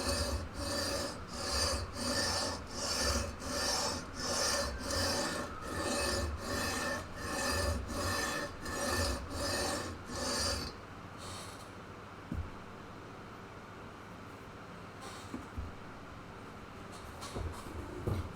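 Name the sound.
sanding guitar frets with a sandpaper leveling beam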